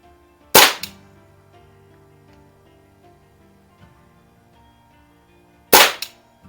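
Two sharp, loud air gun shots from a Daisy 188 and a Healthways Plainsman 9401, spaced about five seconds apart with quiet between them.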